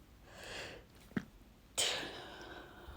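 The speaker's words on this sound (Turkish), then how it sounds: "Ay hapşırdım" A single close sneeze, preceded by a soft breath and a small snort, then quiet room tone.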